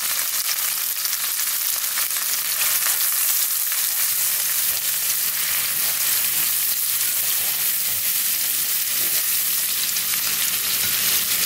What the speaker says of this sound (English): we're just going to go ahead and saute this for a couple minutes